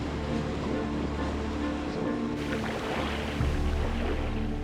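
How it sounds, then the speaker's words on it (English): Ocean waves break on a rocky shore of a West African archipelago, a dense, continuous roar of surf and wash with no pauses, heard up close and loud. "finally, I see the ocean"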